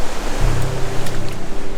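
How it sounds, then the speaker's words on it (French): Ocean waves break on the shore in a loud, continuous broadband roar of surf close by, with a faint low tonal hum running underneath and no talking. "le bruit des vagues se fait de plus en plus fort"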